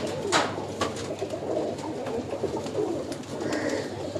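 Pigeons coo steadily at a busy pigeon market in Uluberia, several birds close by with soft repeated calls over a constant crowd murmur.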